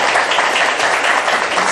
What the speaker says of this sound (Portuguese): Pode aplaudir, gente